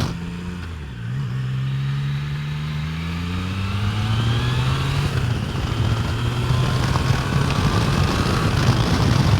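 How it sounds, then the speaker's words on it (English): Triumph Tiger Sport 660 motorcycle accelerating onto a highway, engine drone rising in pitch through a gear change and building alongside steady wind rush, continuous and moderately loud. "Jumping onto the highway here with the Tiger 660 Sport"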